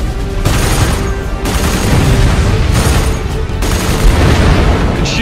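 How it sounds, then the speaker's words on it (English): Missiles launching and exploding in the strategy video game Supreme Commander 2, a rapid series of loud booming blasts in bursts, close and dense with no talk. "Missiles away."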